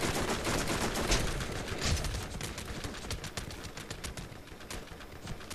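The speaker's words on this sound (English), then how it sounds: "I'll run by shooting" Sustained rapid gunfire from Borderlands co-op play while running, a dense stream of close shots rattling steadily, slightly easing toward the end, with no talk over it.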